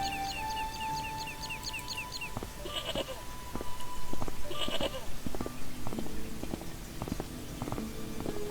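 Goat bleating in the adventure game Broken Sword: Shadow of the Templars, several wavering bleats mixed with bird chirps and other farmyard ambience over a steady background.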